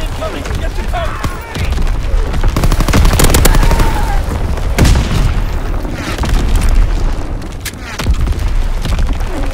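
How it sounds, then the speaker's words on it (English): Battlefield bedlam in Call of Duty WW2 multiplayer: rolling enemy bomb explosions and deep booms mixed with continuous machine-gun and rifle fire, loud and dense throughout, with voices speaking over it. "Enemy bomb incoming."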